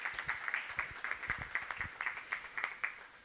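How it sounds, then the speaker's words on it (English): Scattered, faint applause from a small audience at a startup pitch event in Provo, rippling for a few seconds without voices. "Let's give him a round of applause"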